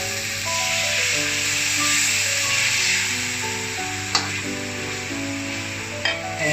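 Teriyaki sauce sizzles steadily in a hot pan with chicken, a close, even hiss over a faint hum, with two brief sharp knocks from the pan or utensil.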